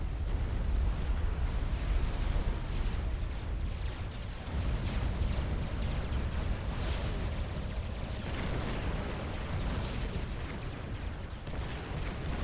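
Continuous loud rumbling blasts and booming explosions from a bombing run in the real-time strategy game Supreme Commander 2, a dense roar filling the whole stretch with no talk.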